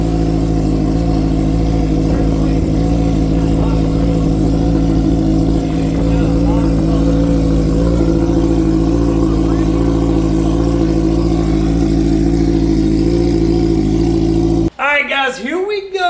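A 2025 Suzuki Hayabusa motorcycle engine runs with a steady, loud low rumble that holds for most of the clip, then cuts off abruptly into a brief different sound near the end.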